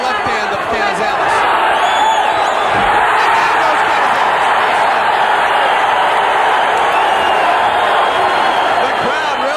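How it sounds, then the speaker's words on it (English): Boxing crowd at a title fight between Orlando Canizales and Gerardo Martinez roars steadily throughout, a dense, loud wall of cheering with shouts rising and falling, a ringside commentator talking over it. "The crowd really getting into it."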